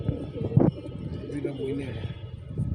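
Racing pigeons at a pigeon race coo softly in low, rolling murmurs as a female arrives, with a brief flutter or bump near the start; close and fairly quiet, with a person speaking nearby.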